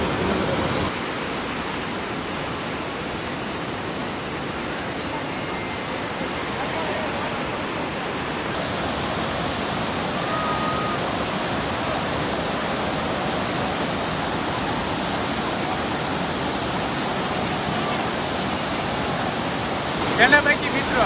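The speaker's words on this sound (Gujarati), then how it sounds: "અત્યારે પાણી નીકળે છે ને દરવાજા ખુલ્લા છે" Water pours through the open gates of Shetrunji Dam in a loud, continuous, broadband roar that holds steady throughout, with a brief faint rustle near the end.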